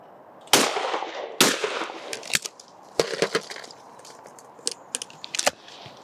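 A Blaser F16 shotgun is fired on a clay shooting stand, two sharp loud close reports in quick succession followed by clicks and clatter of the action being opened and handled.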